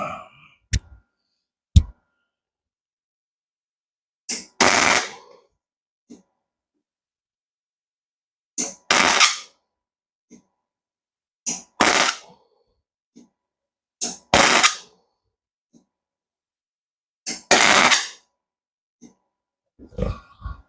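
Welding up the trunk of a Mazda Miata NB, with short bursts of crackling spot welds repeating every few seconds, separated by quiet pauses and a few faint clicks.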